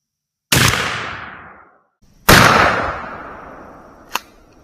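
A 12 gauge shotgun firing Winchester SuperX 00 buckshot: two loud, close blasts a couple of seconds apart, each with a long ringing decay, followed by a short sharp click.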